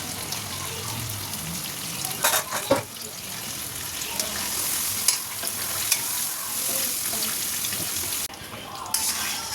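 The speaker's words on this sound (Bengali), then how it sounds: "দেখো মশলাটা কি সুন্দর ফুটছে, আর সাইড দিয়ে তেলও ছেড়ে দিয়েছে।" Marinade spice paste sizzles and bubbles in hot oil with fried onions in a pan over lowered gas heat, with steady close frying crackle and occasional stirring scrapes.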